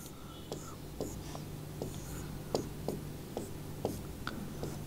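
Chalk or marker writing on a board during a chemistry lesson, regular short taps and strokes over a quiet room hum with soft voice in the background.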